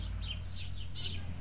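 House sparrows chirp outdoors: a quick series of four bright chirps at an even pace, moderately near, over a steady low hum of background noise.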